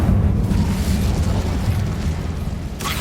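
A fire spell is cast in Hogwarts Legacy, a sustained low rumbling whoosh of flames that roars steadily for several seconds, ending with a brighter crackling burst.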